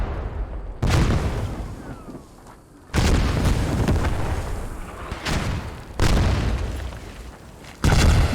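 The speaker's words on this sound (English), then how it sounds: "the tank goes down to Commander Artillery" Commander artillery shells hit in a video game battle, several heavy booms landing a couple of seconds apart, each with a rumbling tail that fades before the next impact.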